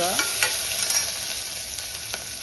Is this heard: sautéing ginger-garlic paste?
yes